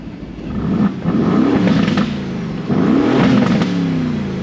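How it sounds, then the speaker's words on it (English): A 2022 Aston Martin Vantage F1 Edition's twin-turbo V8 revs hard in track mode, a loud, close engine roar rising and falling through two long surges with gritty mechanical growl and no talk over it. "This car sounds so mean, so good from that V8 twin turbo."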